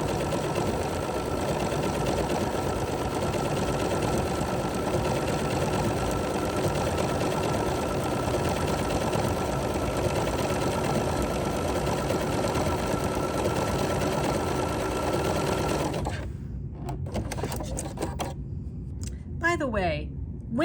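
A sewing machine stitches back and forth in one spot on a small quilt, running as a loud, steady mechanical whir that stops near the end, leaving a few light clicks.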